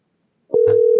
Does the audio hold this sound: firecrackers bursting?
no